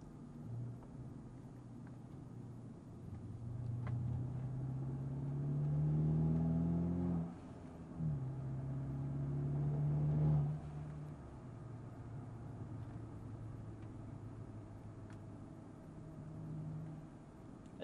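Mercedes CLA250 cruising along a back road, its steady engine rumble and road noise swelling twice under light acceleration before settling back to an even hum, heard from inside the car with no talking.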